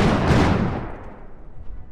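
Gunfire booms once, loud and close, in the Iron Harvest video game. The blast comes right at the start and then fades out over a short rumbling tail.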